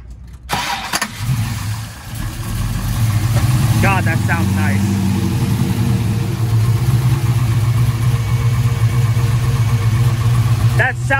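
A 1974 Chevrolet Camaro restomod cranks over and fires, then settles into a loud, steady, deep idle that rumbles close by for the rest of the clip, with brief voices heard near the start.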